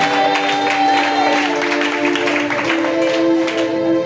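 A church congregation at a Sunday service claps in praise of Jesus: dense, continuous applause heard close, mixed with sustained musical or sung tones throughout.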